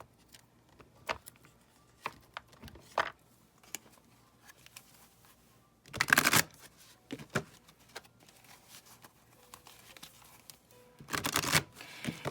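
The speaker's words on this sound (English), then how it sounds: "And let's get some Romance Angels cards." Romance Angels oracle cards are shuffled in a quiet room, with soft papery riffles and taps scattered through the clip and two louder, longer shuffling bursts, close to the listener.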